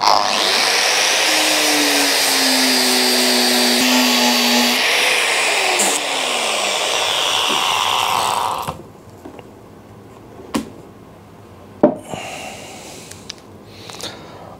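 A power grinder in a motorcycle workshop working on a Royal Enfield bobber project whines loudly and steadily for about eight seconds with shifting pitch, then cuts off, leaving scattered clanks and taps.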